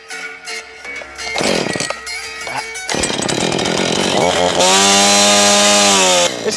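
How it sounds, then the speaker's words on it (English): A Husqvarna chainsaw cutting a log, loud and close, starting with uneven revs and sputters, then building to a sustained high-pitched screaming run before easing slightly at the end. "This is day one of cutting a log with a Husqvarna chainsaw."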